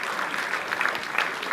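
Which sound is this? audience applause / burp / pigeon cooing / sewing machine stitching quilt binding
audience applause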